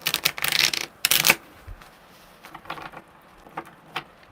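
Tarot cards are shuffled in two quick, close riffling bursts, followed by softer, scattered card taps and slides.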